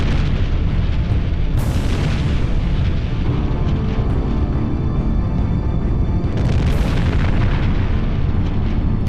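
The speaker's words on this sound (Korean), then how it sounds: "굉음과 함께 베수비오 화산이 폭발한 것이다." Mount Vesuvius erupts in a documentary sound effect: a loud, continuous, deep rumbling roar with crackling bursts that swell around two and seven seconds, filling the whole span with no voices.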